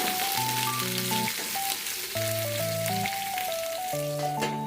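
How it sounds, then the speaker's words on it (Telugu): Brinjal and tomato pieces fry in a pan with a steady, even sizzle throughout, while a melodic music track plays over it. "ఇవి వంకాయ ముక్కలు టమోటా ముక్కలు ఆ ప్యాన్లో వేసుకొని వేయించుకోవాలి"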